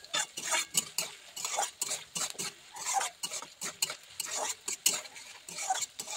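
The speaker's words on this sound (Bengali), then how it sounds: "এবার আমি বেরেস্তাগুলো ভেজে নেব" Sliced onions frying in mustard oil for beresta, with continuous rhythmic spatula stirring and clinking against the pan over a light sizzle, close and busy.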